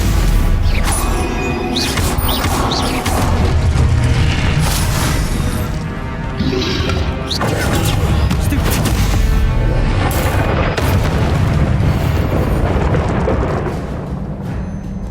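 Spell blasts and crashing explosions from combat in the video game Hogwarts Legacy pile up loudly and almost continuously, with repeated booms and bursts throughout.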